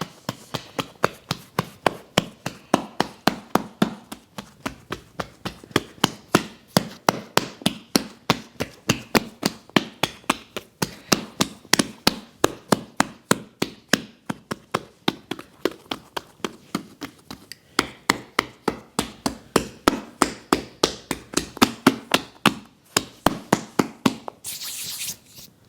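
Sour cream bread dough made with sprouted spelt flour is knocked back on a lightly floured board, a long run of quick rhythmic slaps and thumps, close and loud, with brief pauses and no talking.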